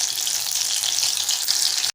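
Mushroom bhaji frying in hot oil, a loud, close, continuous sizzle with bubbling crackle that cuts off abruptly.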